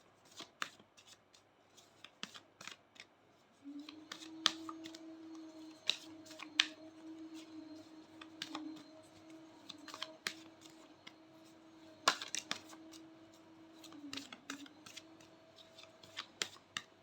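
Tarot cards are shuffled by hand in quiet, repeated crisp riffles and snaps scattered over about seventeen seconds, close up, with a soft low hum running underneath.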